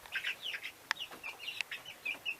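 Young backyard chickens in a flock cluck and peep in quick, high, chirpy bursts at close range, with a couple of sharp clicks between the calls.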